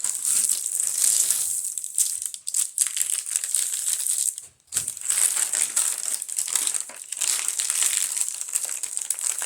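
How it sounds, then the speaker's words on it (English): Paper crinkling and crumpling as a junk journal cover made from scrap trash materials is folded in half, a bright, continuous crackle up close with one short pause midway. "I hope you don't mind all the crinkling."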